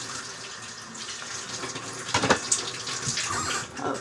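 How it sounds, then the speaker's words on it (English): Kitchen tap running while dishes are washed up during cooking, a continuous hiss of water with a louder splashing surge midway, close and alone without talk. "And I clean as I go. So that's what you're hearing, my water just..."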